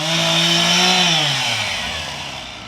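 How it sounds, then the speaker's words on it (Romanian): A chainsaw runs loud and close, its engine pitch sliding down as it bites into wood, then easing off slightly toward the end. "Că ce se taie intens cu drujba și o să ne bruieze"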